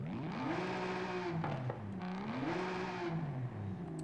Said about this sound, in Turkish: Çok acayip bir ses var arabada